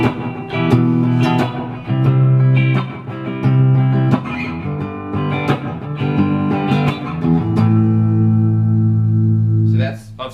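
A Nux Mighty 40BT guitar amp set clean with a touch of reverb rings out chords and single notes, each sustaining and fading into a gentle wash before the next strum, played alone at a strong, close level.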